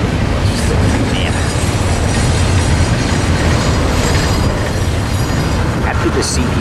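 Freight train cars being shoved backwards past a railfanning spot in Fullerton, a loud continuous rumble with rhythmic clatter and occasional faint wheel squeals, with a voice talking over it.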